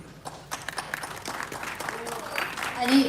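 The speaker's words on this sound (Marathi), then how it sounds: "त्यांच्यासाठी जोरदार टाळ्या झाल्या पाहिजे" An audience at a Marathi film trailer launch breaks into applause, scattered claps building and thickening toward the end, while a voice carries on over them.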